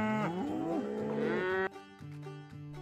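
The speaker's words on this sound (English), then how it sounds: "Cow." A cow moos twice, a long loud low call that rises and falls, then a second, shorter one, with no other sound around it.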